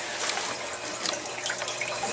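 Steady running water pours into a recycling bin converted into an aquaponics fish tank, filling it through a hole in the lid; a continuous close, even splashing rush with no talk.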